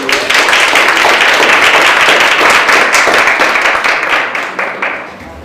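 Audience applause at a final student project presentation session for an interprofessional education program, a dense steady roar of many clapping hands that tapers off toward the end.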